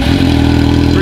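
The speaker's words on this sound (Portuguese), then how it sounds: "eu vou ligar a moto e vou deixar esquentar um bom tempo" A Yamaha XJ6 motorcycle engine idles while warming up, a loud, steady, close low rumble with a constant throb throughout.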